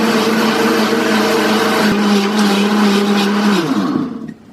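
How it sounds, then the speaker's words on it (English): A blender mixes Keto Chow powder on its manual setting, a loud steady motor whine with a sustained tone that drops in pitch as it winds down near the end. "Just gonna blend it on manual."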